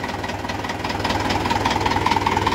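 Close, loud idle of an old-model tractor engine, a continuous rhythmic diesel knock that holds steady and grows slightly louder toward the end, with no voices over it.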